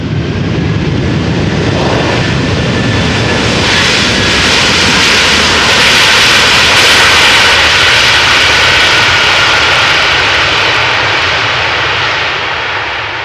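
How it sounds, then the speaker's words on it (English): A jet airliner lands at Amsterdam Schiphol Airport with a loud, close engine roar that swells through the middle and eases slightly at the end, with no talk over it. "Definitely the loudest landing we have seen this morning so far."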